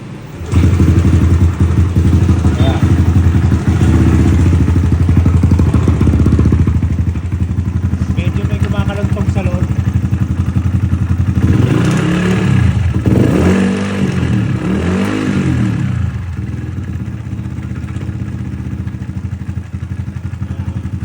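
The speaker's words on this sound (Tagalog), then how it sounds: "Kaya lang may ingay na yung makina nito." A scooter engine with a noisy, worn motor idles loudly and continuously, with a rough mechanical clatter running through it and a few slight rises in revs partway through.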